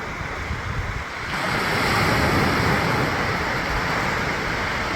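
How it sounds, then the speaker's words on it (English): Ocean waves break and wash steadily onto Boat Harbour Beach in Tasmania, a loud continuous surf roar that swells after the first second, with wind buffeting the microphone. "I could sit here for hours just watching the waves."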